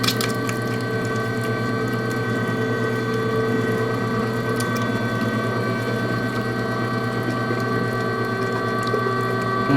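An electric meat grinder runs steadily throughout, grinding meat for homemade sausage, with a constant mechanical hum and a faint ratcheting texture. No one speaks.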